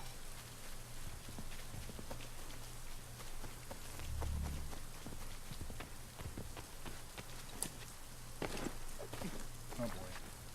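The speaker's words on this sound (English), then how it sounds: "Oh, hey, it's raining." Steady rain hisses across the whole scene in Assassin's Creed III, with a horse's hooves clip-clopping through it and a low rumble briefly swelling near the middle.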